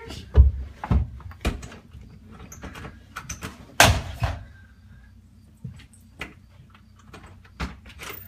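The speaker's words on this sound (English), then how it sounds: "All the doors keep opening." Doors in a house repeatedly open and close, giving a series of sharp knocks, clunks and latch clicks spread across the clip with quieter rustling between them and no talking.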